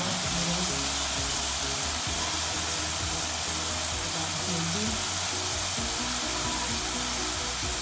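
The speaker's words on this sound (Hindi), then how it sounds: "मैं इन्हें शैलो फ्राई करूँगी।" Bitter gourds shallow-fry in oil in a pan for qeema karela, a loud, dense, unbroken sizzle with faint crackles and occasional soft stirring underneath.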